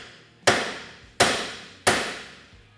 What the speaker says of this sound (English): you want to take a hammer and you want to hit right here